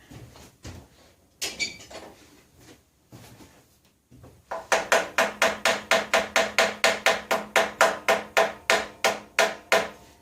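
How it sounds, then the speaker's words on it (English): Sharp metallic hammer blows strike a carburetor on an 8500-watt electric-start generator, a few scattered knocks giving way to a fast, even run of about twenty loud, close taps. "Let's beat on the carburetor for a moment"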